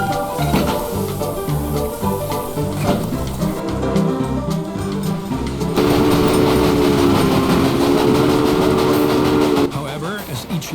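A steam locomotive runs along the line in the railway strategy game Railway Empire, its rhythmic clatter and rumble steady throughout, a sustained whistle-like tone joining in midway, with a voice talking over it.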